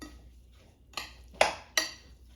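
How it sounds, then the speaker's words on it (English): A metal spoon knocks against a bowl while mixing pork kabob pieces in a spice, garlic, lemon and parsley marinade: three sharp, close clinks spaced roughly half a second apart, with quiet between them. "just take your metal spoon and just mix it all in"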